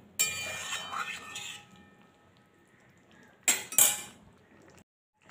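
A spoon stirs bottle gourd and pea curry in a cooking pot, with sugar and dried fenugreek leaves added: a few scraping clinks of utensil against metal early on and a sharper burst of clattering near the end, in a quiet kitchen.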